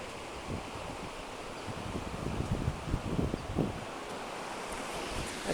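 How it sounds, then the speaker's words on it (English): Water rushes steadily past black willows on a Southern California stream in autumn, a continuous broadband wash with wind noise over the microphone and no talking. "listen to that water."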